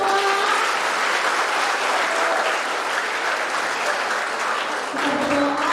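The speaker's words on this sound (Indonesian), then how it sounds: "Ya, tepuk tangan semua." A group at an Easter youth camp applauds together, a steady, dense wash of clapping that holds loud for several seconds before briefly dipping and swelling again near the end.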